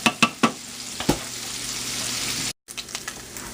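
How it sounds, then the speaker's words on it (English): Bacon and its grease piled into a pan of cooked cabbage for halushki, a few sharp clatters and stirs at the start, then a steady sizzle of frying that runs on with light scraping, with no talking. "We're going to just pile it right in there. Grease and all."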